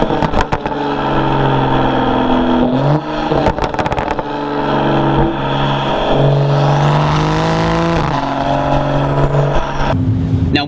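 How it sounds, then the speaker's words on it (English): A car with a non-resonated performance mid pipe and touring edition exhaust roars loudly and steadily nearby, its pitch climbing and falling as the engine revs, with a sharper burst near the end. "The pops and just the exhaust sound overall, I know that it kind of enhances all of that sound anyway, but it sounds unbelievable."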